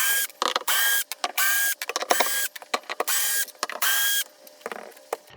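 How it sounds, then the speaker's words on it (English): A power drill backs screws out of an RV dinette table pedestal, whirring in repeated short bursts with pauses, scraping and creaking between runs, close by. "Next thing I'm gonna do is remove all the screws around the pedestal here."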